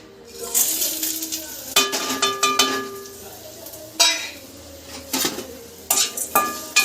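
Coconut, cinnamon, cloves, pepper, fennel and cardamom fry in oil in a pan, with light sizzling broken up by repeated metal clinks and scrapes of a spoon stirring, close and fairly loud.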